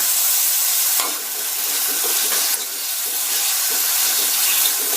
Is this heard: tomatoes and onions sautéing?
yes